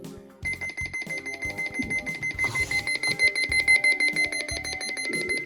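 A loud, rapid electronic alarm beeps in a steady pulsing rhythm, shrill and close, with a high continuous tone underneath throughout: a siren test on a GPX A390 weather radio.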